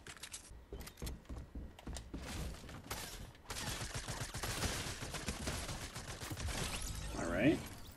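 Gunfire in the video game Fortnite crackles in rapid bursts and single sharp shots, with clicky keyboard-like tapping mixed in and a steady game soundscape underneath.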